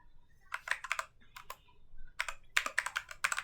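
Someone types code on a computer keyboard, quiet clicking keystrokes in short bursts separated by pauses, then a faster run of taps near the end, close and alone in a quiet room.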